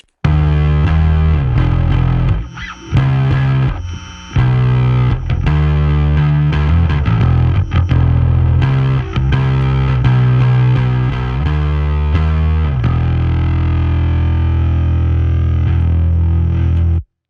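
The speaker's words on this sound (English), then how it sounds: "I grabbed my bass and I played some very overdriven fuzz bass" Heavily overdriven fuzz bass guitar plays loud, thick sustained notes with a few brief gaps, alone, ending on a long held tone.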